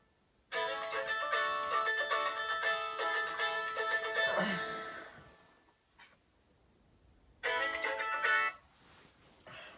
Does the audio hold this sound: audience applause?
no